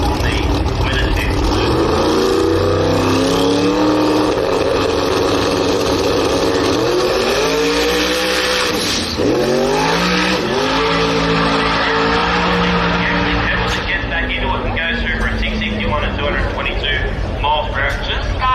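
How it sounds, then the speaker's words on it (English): A Pro Mod drag race car thunders down the strip at a Brisbane drag racing event, its engine roaring loud and continuous as the tyres spin and skip, pitch dipping and climbing, with commentary over the top. "Just started to skip the tyre a little bit down there, and about to get out of the throttle."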